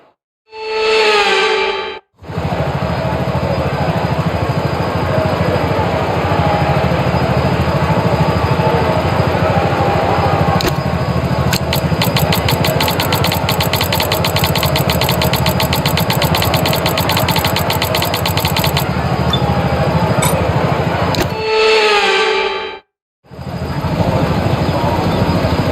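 Formula 1 car engines on the formation lap in the racing game F1 25 at the Dutch Grand Prix: a continuous loud engine drone with a steady high whine, held evenly for over twenty seconds, with brief breaks near the start and end.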